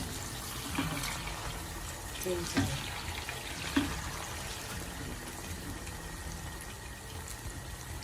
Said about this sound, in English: Now I'm frying the plantain.